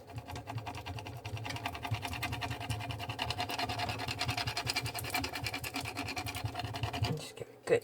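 A tool scrapes slowly and steadily across vinyl being pressed onto a black glitter tumbler, giving a continuous close, rasping scratch with a sharper knock at the very end.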